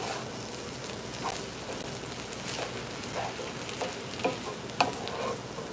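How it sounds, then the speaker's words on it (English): Beef, broccoli and vegetables sizzle in a hot pan while being stirred, giving a constant crackling hiss with scattered scraping and clicking of the utensil, close by. "So we're gonna go ahead and mix all this together now."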